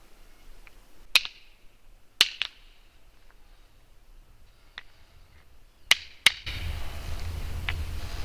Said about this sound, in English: I'll do the rock clacks first.